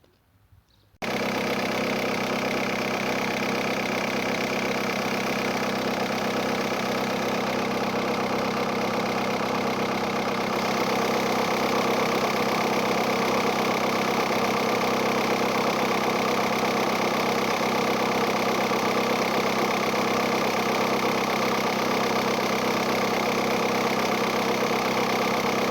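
A VW Touran engine starts and settles into a steady, loud idle with a worn drive belt tensioner, a continuous mechanical drone that holds for about twenty-five seconds.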